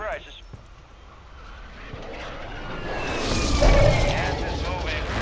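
A mortar explosion in a video game, a deep rumbling boom that swells over several seconds, with a player's voice talking over the game sounds.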